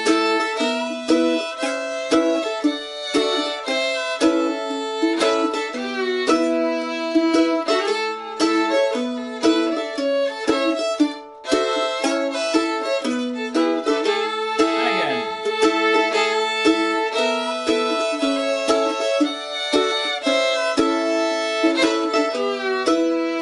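A mandolin strums bright, ringing chords through the A part of the tune Goodbye Liza Jane. The strokes are rapid and steady, the instrument is close and fairly loud, with a brief pause midway and no talking.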